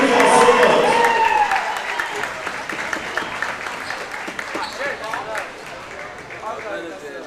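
A basketball crowd at a district championship game applauds the seniors. The dense clapping starts loud and gradually fades, with voices mixed in.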